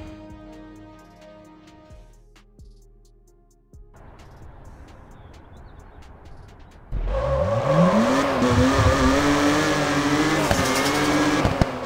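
A car drifts in the mobile racing game Drift for Life. Music plays first, then an engine revs loud and close and tires squeal steadily through a long slide.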